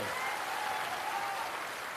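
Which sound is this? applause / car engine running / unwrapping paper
applause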